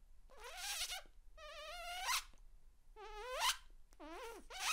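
A beatboxer imitates a zipper with the mouth, producing four quick rising, buzzing zips separated by short pauses, close and clear.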